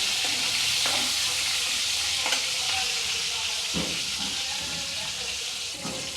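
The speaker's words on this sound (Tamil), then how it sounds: "கொள்ளு வெங்காயத்தை நல்லா வதக்கணும்" Onions and horse gram sauté in a hot pan with a steady, close hiss of sizzling, broken by a few scraping stirs spread across the clip.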